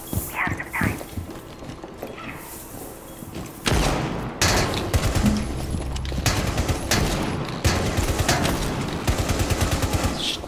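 Rapid video-game gunfire crackles in dense automatic bursts, loud and close, with some single shots and scattered game effects between volleys.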